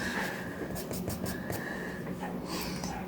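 Charcoal being drawn across paper with a big rounded nib while sketching a German Shepherd dog, a close, steady scratchy rasp that runs throughout with a few brief breathy sounds.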